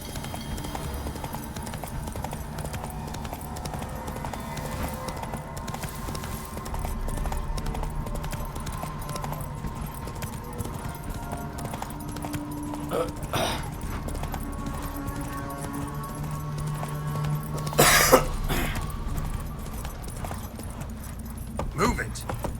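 A horse gallops with steady clip-clop hoofbeats in The Witcher 3, hooves drumming continuously at moderate loudness under a game soundscape, while a voice talks over much of it and a sharper burst rises near the end.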